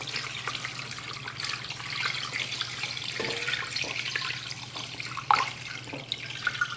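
Liquid runs through a strainer holding garlic, part of a pulled pork Mexican lasagna: a steady close trickle and splash with scattered drips over a low hum, and one sharper clink near the end.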